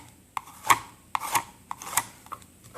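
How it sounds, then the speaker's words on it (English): A squeegee is drawn across metal foil laid over a sanded 3D-printed windsurfer, making about five short, close rasping scrapes spaced at an uneven rhythm, with quiet gaps between the strokes. "once you have the center down, take your squeegee across."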